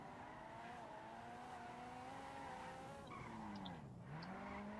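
A car drifting in the video game GTA 5 with an all-wheel-drive car. Tires squeal and skid in a continuous, wavering whine over engine noise, quiet and steady throughout.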